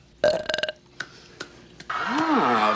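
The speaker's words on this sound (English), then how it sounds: "And those are the most pathetic burps I've ever heard." Several burps from a teen comedy movie scene: a cluster of short rapid belches, then a couple of isolated ones, ending in a longer drawn-out belch with a wavering pitch, loud and close with no talk.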